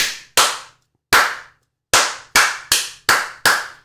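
Sharp single hand claps struck close to a microphone, about eight in all, arriving in an irregular rhythm with short gaps between them and a clear pause after the third, each loud and crisp with a quick decay.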